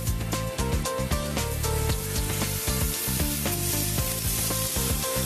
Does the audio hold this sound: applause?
no